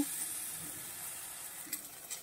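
Brinjal slices frying in a pan, a steady soft sizzle close by with faint scraping touches near the end, no voices.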